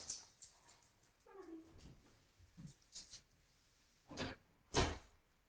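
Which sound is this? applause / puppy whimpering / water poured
puppy whimpering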